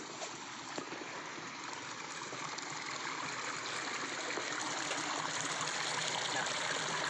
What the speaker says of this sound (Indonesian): Ini kita sudah sampai ke sungai.